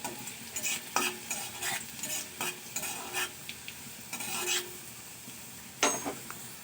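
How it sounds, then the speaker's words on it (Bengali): Chopped garlic stirred in hot oil for a green radish-leaf fry, with repeated scraping strokes of a spoon against the pan over a soft sizzle, close and uneven in rhythm. "রসুন কুচিটাও আমি 1-2 মিনিট তেলের সঙ্গে নাড়াচাড়া করে নেব।"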